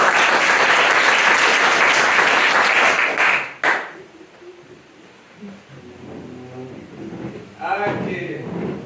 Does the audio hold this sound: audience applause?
yes